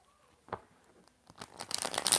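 Tarot cards are shuffled by hand, a lone riffle at first, then a rapid burst of crisp papery flutters that grows louder toward the end, close and with no talking.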